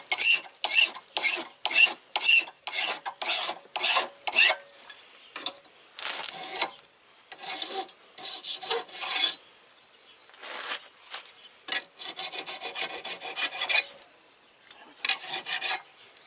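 A hand file rasps over a steel knife blade to remove burrs, first in quick regular strokes, then in longer uneven passes with pauses, loud and close with no talking.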